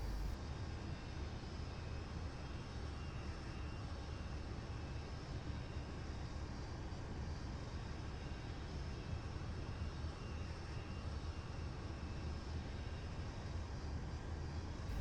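Steady, continuous drone of a Mirage F1 jet engine on a steep final approach in the DCS flight simulator, a dense low rumble with a faint whine, holding at constant loudness throughout with no talk.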